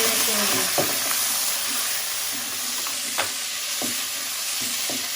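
Ginger, garlic and green chilli paste frying with browned onions for masoor dal, giving a loud, continuous hissing sizzle with scattered scraping taps of a spoon stirring the pan.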